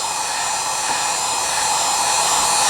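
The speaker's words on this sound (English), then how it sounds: "We don't want to put the heat gun too close." A heat gun blows hot air during restoration work on a Philco 41-245 radio, giving a loud, steady, close whooshing hiss with a constant motor whine and no pauses.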